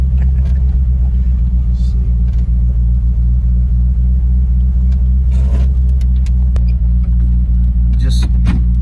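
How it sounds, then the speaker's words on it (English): Engine of an abandoned 1950 Pontiac running with no brakes, a steady loud low rumble throughout with brief knocks and rattles, and people talking over it. "the faster you go in a car that doesn't have any brakes, the more terrifying it is"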